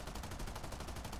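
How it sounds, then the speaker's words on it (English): Machine guns on a PBM-5A Mariner flying boat in War Thunder, a continuous rapid burst of automatic fire, fairly faint and dense with no pauses. "And there are the machine guns."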